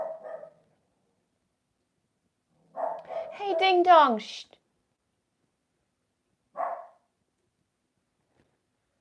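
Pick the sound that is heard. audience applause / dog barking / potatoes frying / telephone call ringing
dog barking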